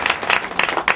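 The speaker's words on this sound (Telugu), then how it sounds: "అందరు గట్టిగా చప్పట్లు కొడదాం." A church congregation claps loudly during a pastor's sermon, a dense burst of applause with uneven swells across the full second.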